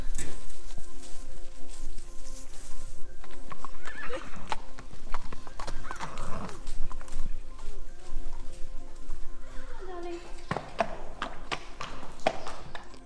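Horses being brought in at an event rider's yard walk past with steady, uneven hoof clip-clops on a hard surface, close and moderately loud, with an occasional neigh and faint stable clatter around them.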